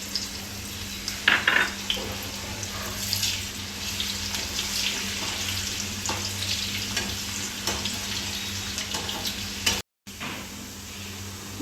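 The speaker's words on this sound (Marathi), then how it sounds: "बटाटा घेतोय, तेलात परतून घेऊ थोडं।" Potato pieces sizzling and frying in oil in a pan while cooking veg biryani, with a steady hiss, occasional stirring scrapes and a brief gap near the end.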